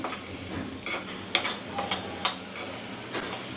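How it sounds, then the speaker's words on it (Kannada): Vegetables frying in a spoonful of coconut oil over low heat, with pepper powder and salt going in; a soft steady sizzle with a few sharp clicks of stirring, close up and alone. "ಇವಾಗ ಇದು ಒಂದು ಸ್ವಲ್ಪ ಫ್ರೈ ಆದಮೇಲೆ ಪೆಪ್ಪರ್ ಪೌಡ್ರು, ಸಾಲ್ಟ್ ಹಾಕೋತೀನಿ."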